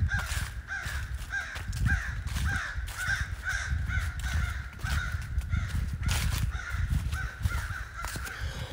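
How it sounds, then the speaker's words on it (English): Several crows caw repeatedly from the bare winter trees along a wooded trail in Panther Creek State Park, the calls steady and moderately distant over a constant outdoor background. "Those may be crow."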